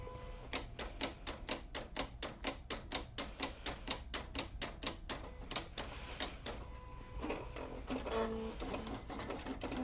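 A Silhouette CAMEO cutting machine test-cuts Siser Brick vinyl, giving a rapid run of sharp, evenly spaced clicks and taps close by, then a rougher whirring motor shuffle as the carriage moves near the end.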